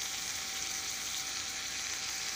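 Paprika chicken browns in a hot pan, giving off a steady, even sizzle that stays constant throughout, with no talking.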